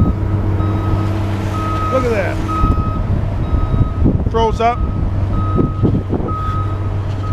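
Trucks moving on a cold day, with a continuous reversing beep pulsing at a steady rate over engine rumble, while people talk nearby.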